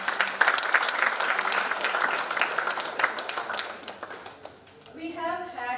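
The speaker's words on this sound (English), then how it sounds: "A big round of applause." Applause at a college annual day ceremony fills most of the moment, dense steady clapping from an audience that fades out, after which a voice begins speaking alone.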